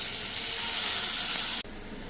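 Fenugreek leaves dropped into a hot pan give a loud, dense sizzling hiss that holds steady and then cuts to a quieter simmer near the end.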